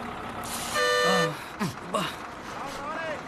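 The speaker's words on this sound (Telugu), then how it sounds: "బస్సు కదిలిపోతుంది" A bus horn at a departure point gives one steady toot of about half a second, over a background of voices and street noise, with brief thumps after it.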